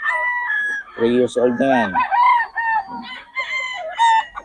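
Three-year-old game-farm roosters and chickens crow and cluck in repeated bursts, close and loud, with someone talking briefly among them.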